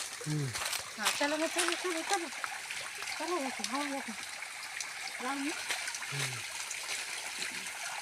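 Water runs and splashes steadily along an irrigation channel in a Konkan village, a continuous gushing hiss, while someone talks over it intermittently.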